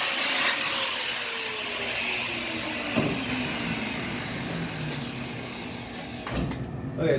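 Hand deburring of a plasma-cut bolt hole in a steel Jeep JK crossmember, a continuous scraping rub with a rising whine near the start and short harsher bursts around the middle and end.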